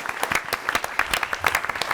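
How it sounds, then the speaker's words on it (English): Audience applause at the Skybound Comics panel during San Diego Comic-Con 2018, a dense steady clatter of many hands clapping from a large crowd. "Big round of applause to everybody here for the Skybound Comics panel."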